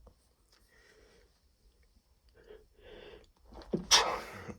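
A man sneezes once, loud and close, after a few sniffs and breaths in an otherwise quiet room.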